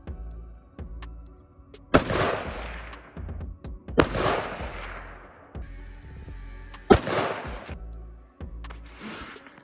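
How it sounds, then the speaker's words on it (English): Three loud, sharp gunshots from an Aero Precision AR rifle fired at a target 150 yards away, spaced a couple of seconds apart, each ringing out in a long decaying echo across an open range. "First shot at 150 yards."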